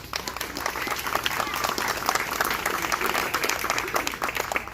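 An audience claps at a political campaign event for a US Senate candidate in Hickory, North Carolina, a brisk, close burst of many hands applauding steadily for several seconds, with no talk over it.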